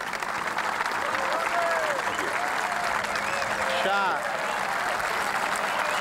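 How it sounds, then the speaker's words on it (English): A large golf gallery in Ireland applauds two players on a sunny afternoon, a steady broad clapping that fills the whole stretch, with a commentator's voice talking over it. "Great gallery turning out here to applaud these two great players."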